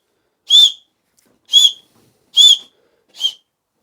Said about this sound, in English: Got a whistle on it. What's that telling me? It's telling me it's coming up on compression.